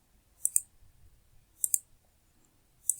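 A computer mouse clicks in three quick double clicks spaced about a second apart, crisp and close, with near silence between them.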